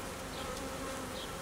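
Honeybees buzzing steadily at an open beehive frame with capped brood, a dense continuous hum close by with no talk.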